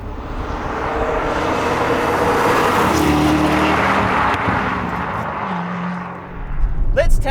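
Chevrolet Corvette C6 Z06 driving along a canyon road, a steady engine drone with wind and tyre roar heard from inside, rising and easing through gear changes, with a voice speaking briefly.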